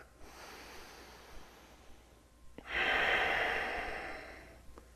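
Deep, slow breath during a yoga lunge, a quiet inhale followed by a louder, drawn-out airy exhale close to the microphone, ending with a faint click.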